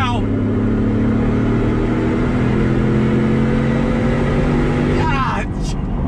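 A 2020 Shelby Super Snake Ford F-150 pickup, rated at 770 horsepower, accelerates on throttle with a loud, steady engine drone throughout and a rising whine near the end, while a person talks over it.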